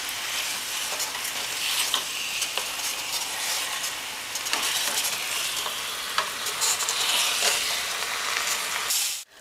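Meat frying in a pan while being stirred and broken into smaller chunks until browned: continuous loud sizzling with repeated scraping stirs, close up and without talk, ending abruptly.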